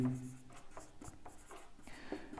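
Quiet strokes of writing a maths formula on a classroom board, a series of short soft scrapes and taps in an otherwise hushed room.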